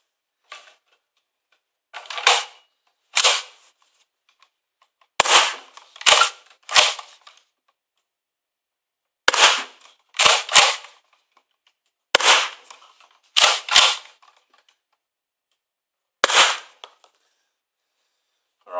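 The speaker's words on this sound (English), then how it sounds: "so there's our 12 shots with the Elite Alpha Trooper" A modified Nerf Elite Alpha Trooper blaster fires twelve sharp, close shots in uneven clusters of two and three, each a snappy pop with a brief mechanical clack and silence between bursts.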